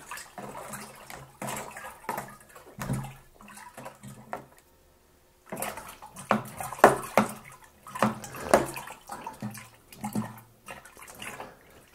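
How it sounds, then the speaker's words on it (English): Apple sauce wine must is stirred vigorously in a fermenting bucket, giving sloshing, splashing bursts in uneven rhythmic strokes, close by with a brief pause midway and no talking. "that was a good full minute of a vigorous stir."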